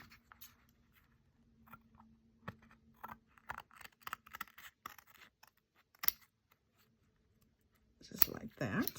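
Scissors snip around a piece of lace for a collage, producing quiet, scattered clicks and short cuts at close range, with louder handling rustle near the end.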